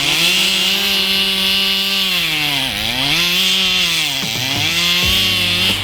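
Chainsaw cutting a tree with dry rot in a park in Newark, New Jersey, its engine droning loud and close without pause, dipping in pitch as it bogs into the wood and revving back up.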